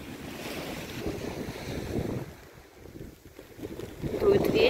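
Gusty wind buffets the microphone beside the sea in Montenegro, with waves washing in underneath and rain falling, a steady rough roar that swells louder toward the end, with no voices.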